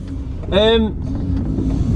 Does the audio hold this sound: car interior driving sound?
yes